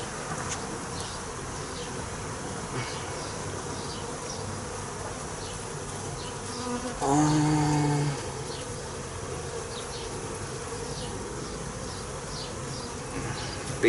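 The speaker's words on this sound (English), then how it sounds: "Bees are looking good and busy." Honey bees buzz on a hive frame during inspection of a swarm: a steady, dense hum of many insects close by, with a brief louder swell near the middle.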